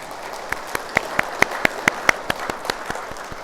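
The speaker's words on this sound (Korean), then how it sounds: "박수 부탁드립니다." A parish Bible-study group applauding: a soft wash of clapping from many hands with a few sharper, nearer claps standing out in an irregular rhythm.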